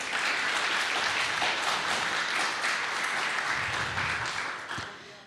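A crowd at a Flutter Berlin developer meetup hosted by Media Markt Saturn applauds, dense steady clapping lasting about five seconds before thinning out at the end.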